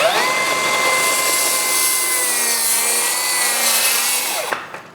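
Corded power saw cutting a wooden stair stringer, a loud sustained whining rasp with shifting pitch for about four seconds before the blade winds down and stops, close up with no talk.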